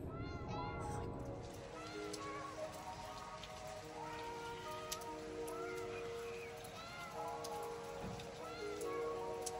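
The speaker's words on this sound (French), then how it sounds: "Il pleut. Il pleut genre beaucoup, c'est un truc de fou." Heavy rain falls on a Saturday morning, a steady hiss that runs through the whole stretch. A cat meows repeatedly and close by over the rain.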